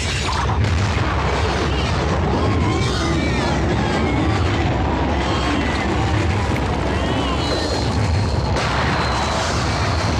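A landmine explodes in a Tamil action film scene: a loud, continuous booming rumble and dense roar fill the whole stretch, with voices mixed into the din.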